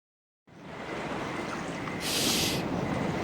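A steady wash of water and wind around a boat sailing on night waves in a video game, starting abruptly after a moment of silence and swelling slightly, with a brief hissing surge.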